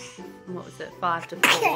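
A sick baby girl sneezes once, a sudden bright burst near the end of a short stretch of close adult talk.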